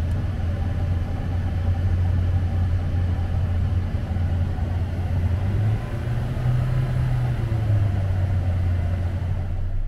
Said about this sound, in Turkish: Biraz gaz veriyorum.